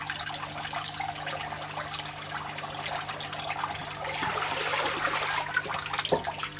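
Rinse water drains from a washing machine on its second rinse, a steady hissing, gurgling flow with a constant low hum beneath it, alone and moderately quiet.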